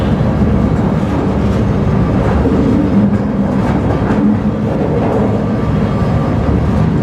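Steady, loud rumble of a freight train ridden while trainhopping through the Pacific Northwest, with continuous low roar, rattling and faint rhythmic clatter of the cars, no talk.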